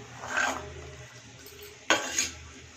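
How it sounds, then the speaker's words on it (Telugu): Dried red chillies dropped into hot oil for a Telugu red chilli pachadi tempering, with a quick sizzle and stirring scrape near the start, then a sharp second crackling burst, all fairly quiet. "ఇప్పుడు ఎండుమిర్చి ఇలా పోపులో వేద్దాం."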